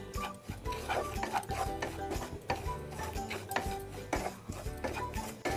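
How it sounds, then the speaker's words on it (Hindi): Coconut powder being dry-roasted in a kadhai on a gas stove for coconut barfi: irregular scraping and clinking of a spoon against the metal wok, steady stirring taps at close range, with no talk. "इसको भी हम अच्छे से भून लेंगे कढ़ाई में"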